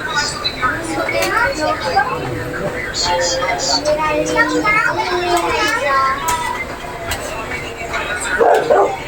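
A dog barks a few times amid lively, overlapping children's voices and play noise nearby.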